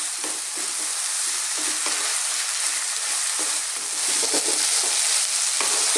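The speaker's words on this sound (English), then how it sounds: "what we're going to do is throw these around in the pan, stirring all the time for about another 4 minutes" Eggplant pieces for a vegan eggplant and tomato curry are tossed and stirred in a hot pan, a loud, constant sizzle with repeated scraping and shuffling, no voices.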